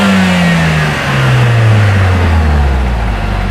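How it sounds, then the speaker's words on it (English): A Lotus Emira i4 sports car engine revs while stationary with a low, drawn-out growl whose pitch slides steadily downward, loud and close, with a rumbling exhaust note and no talk. "So I'm going to rev up the engine and let you hear the static exhaust"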